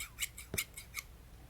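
Ordinary scissors snip through a thin plastic sheet in several quick, crisp cuts, close up and with no talking.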